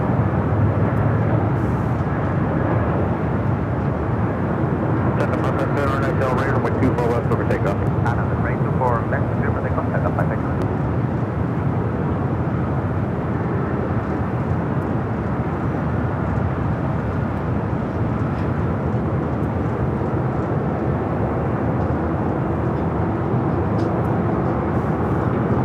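Avianca Airbus A320 in Star Alliance livery taxis at Los Angeles LAX toward runway 24 left, engines giving a steady, fairly loud roar and whine with a voice speaking over it.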